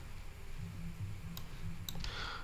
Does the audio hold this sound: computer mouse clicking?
yes